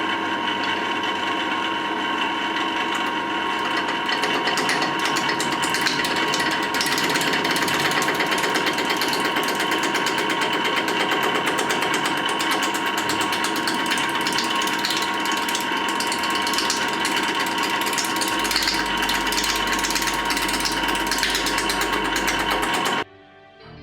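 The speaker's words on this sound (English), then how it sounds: "I'm going to be using my 3/4 inch roughing gauge" A 3/4 inch roughing gouge cuts a spinning blank of spalted timber on a wood lathe, a loud, continuous rattling and grinding roar with the motor's drone underneath, ending abruptly as the cut stops.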